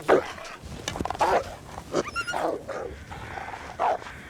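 A dog in The Long Dark survival game gives several rough growls and snarling barks in uneven bursts, loud and close, with a faint chime in between.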